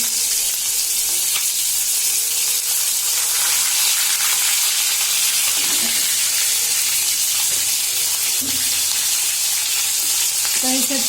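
Chicken meat frying in hot oil in a pan gives off a loud, continuous close-up sizzle with occasional spatters and stirring, with no one talking.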